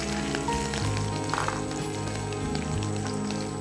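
Curry leaves fry in hot oil, giving a steady crackling sizzle with scattered pops and spits against a tonal hum in the background.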